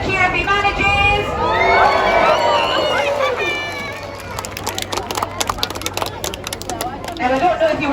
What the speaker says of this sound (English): so give him a cheer if he manages!